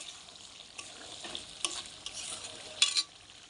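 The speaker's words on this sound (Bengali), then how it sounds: "আমি আজকে একটুও জল দেব না, একটু নেড়ে দিই ভালো করে।" Chicken pieces, already releasing their own oil, are stirred in a pan with no water added, producing a faint, soft sizzle with scattered scrapes and a few sharper clinks of the utensil, close by.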